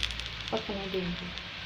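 Barley and gram flour roti fries in a spoonful of cooking oil in a pan, giving a steady, close hiss of sizzling throughout, with a brief murmur of voice partway through.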